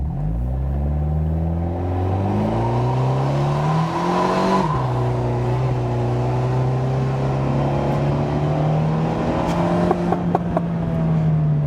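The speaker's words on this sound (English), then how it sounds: "I stay with the right foot on the brake and let the car, preload a little bit, and then we have even better acceleration" A 124 Spider sports car accelerates hard in sport mode from a brake-preloaded launch. The engine note climbs loudly and close up, drops briefly at a gear change, then pulls strongly again, with faint clicks near the end.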